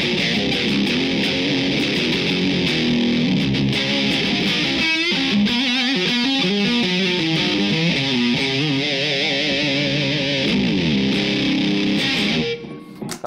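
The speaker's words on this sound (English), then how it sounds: "you can already hear there's all kinds of different tones and different sounds that are available in the Power Grid, the distortion pedal" An electric guitar plays through a Seymour Duncan Power Grid distortion pedal, giving a thick, saturated tone with sustained chords and riffs that shift in voicing, loud and continuous before cutting off at the end.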